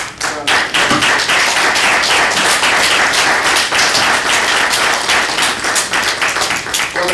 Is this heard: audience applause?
yes